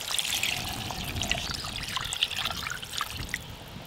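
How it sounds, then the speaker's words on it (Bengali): Water pours steadily into a pot of chicken curry whose meat has been well fried in spices, a continuous close splashing trickle with no talking. "মাংস বেশ ভালো করে কষানো হয়ে গেছে এবার জল দিয়ে দেব"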